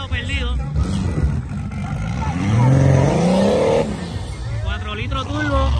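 Race car at a street drag-racing event, likely a 4-litre turbo machine, accelerating hard with rising engine revs and a steady roar. A crowd and an announcer's voice sit under it.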